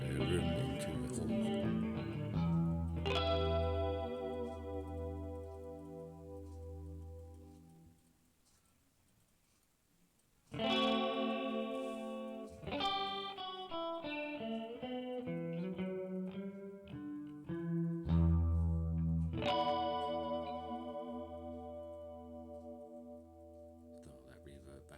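Electric guitar runs through a Line 6 Pod 2.0 modeller as its reverb shifts from plate to room to hall: sustained chords ring out and decay into a near-silent gap, then fresh strummed and picked notes bloom with long, spacious tails.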